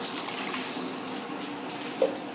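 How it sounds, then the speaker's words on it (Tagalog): Water is poured into a cooking pot in place of stock, a steady splashing, trickling stream that runs throughout with a small clunk near the end. "So after that, I'll be putting my water instead of stock."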